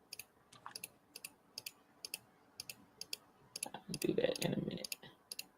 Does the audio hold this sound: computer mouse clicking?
yes